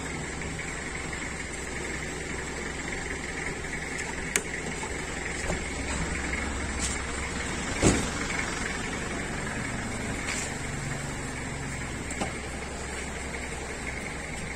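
A 1992 Nissan Cedric engine idles with a steady, low hum, punctuated by a few faint clicks and knocks.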